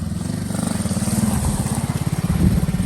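A Honda CT70 fitted with a swapped Lifan engine and 22mm carburetor runs nearby, a loud steady single-cylinder putter with rapid even pulses and slight surges in pace.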